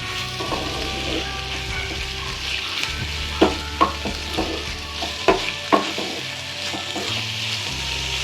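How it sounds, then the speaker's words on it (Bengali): Chicken keema with salt and spices fries in a pan, a steady broadband sizzle throughout with a few sharp scrapes and knocks of a spoon stirring the mince. "চিকেন দিয়ে আবার আমরা এটিকে ভালো করে ফ্রাই করে রান্না করে নেব"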